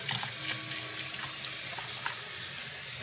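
Tap water runs steadily to rinse shampoo off a Yorkie in a sink bath, a continuous close splashing hiss with small dips and spatters as the stream hits the dog's coat.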